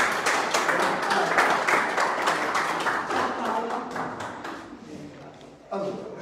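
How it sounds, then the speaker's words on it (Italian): Applause from a gathered crowd at the opening of a new Forza Italia office in Ostia, dense clapping that gradually thins and fades, followed by a brief bump of noise near the end. "Vai, applauso, applauso."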